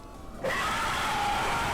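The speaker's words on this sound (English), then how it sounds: "the monster noises and jump scare" A monster jump-scare effect for a horror game bursts in suddenly after a near-quiet start, a loud, harsh rasping shriek with a wavering tonal edge that holds at full strength until it stops.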